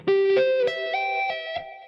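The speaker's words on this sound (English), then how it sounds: "So if you do that and do a trill at the top, it sounds like this." Quick clean-toned guitar notes sweep upward, then a fast trill flutters at the top, ringing out alone with a light effect.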